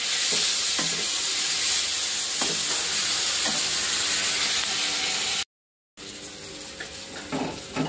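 Tomatoes, green chillies and nigella seeds sizzle loudly and steadily in a pan up close, with occasional scraping stirs and a brief cut to silence partway through.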